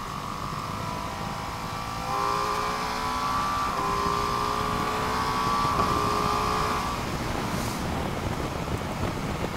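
A Ducati Multistrada V2S motorcycle engine revs and accelerates steadily in sport mode, its pitch rising in stages under a background of wind rush.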